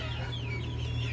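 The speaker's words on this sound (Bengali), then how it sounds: "দেখেন মুরগটা" A desi rooster on a home poultry farm clucks softly and steadily at close range, over a constant low hum, with no talk.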